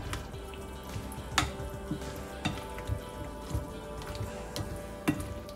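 Italian pasta salad is stirred with dressing in a bowl, producing a series of soft wet squelches and sharp scattered clicks of the utensil against the bowl, close and moderately loud with no talking.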